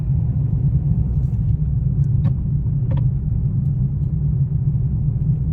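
A car drives along a road during a beginner driving lesson, its engine a steady low rumble heard from inside the cabin, with a few faint clicks and no talk.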